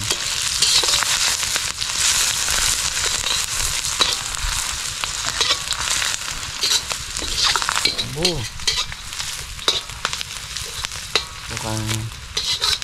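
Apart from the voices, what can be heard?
food frying in a pan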